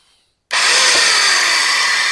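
A vintage Craftsman aluminum-body electric sander switches on abruptly after brief quiet and runs with a loud, steady, close buzzing whir that holds to the end.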